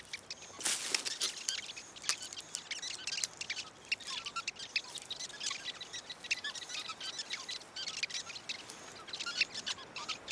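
Weaver birds calling around a large communal nest, a busy mix of short chirps and tweets repeating throughout, fairly close and moderately loud, with no voices.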